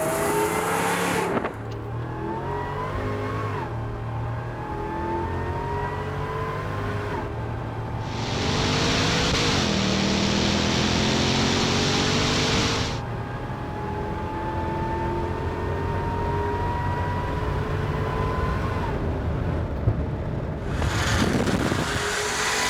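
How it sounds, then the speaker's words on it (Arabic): A supercharged Nissan Patrol with a modified Bolt exhaust revs repeatedly, engine roaring up and settling back, with sharp backfire crackles from the rear exhaust, loud and close with no talk. "الصوت الباك فاير خيال علمي بالاكزوست ورا"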